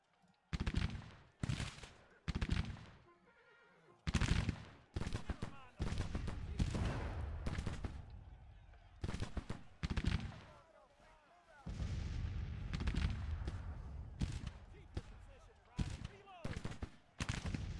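Soldiers fire in the Civil War video game Grand Tactician. Repeated volleys of musket and cannon fire crack and boom in uneven bursts over nearly twenty seconds, some close and loud, with short gaps and faint background talk.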